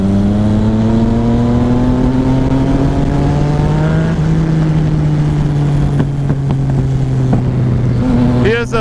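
A motorcycle, either a Suzuki SV650 or Yamaha FZ-09, fitted with a full aftermarket exhaust with the baffle removed, roaring loudly and steadily under load with a gradual pitch shift as the engine revs, heard close from on the bike.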